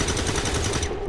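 Sustained rapid gunfire from a firefight in XCOM 2: War of the Chosen, a dense, continuous burst of shots lasting about a second, loud and close with no talk over it.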